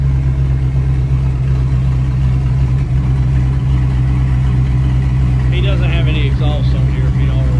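A 2003 Chevrolet Tahoe engine idles steadily with its exhaust unbolted, a loud, continuous low rumble running throughout, with a few brief higher sounds near the end.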